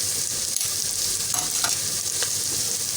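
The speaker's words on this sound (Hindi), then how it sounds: "अब हम हल्दी भी डालेंगे साथ ही, तो फ्राई करेंगे अच्छे से" Ginger garlic paste with red chili and turmeric frying in a pan, a steady loud broadband sizzle throughout with a few scraping stirs of a spoon, no voices.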